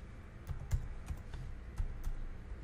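Brief bursts of typing on a computer keyboard while entering a search, several quick irregular key clicks up close over a low background hum.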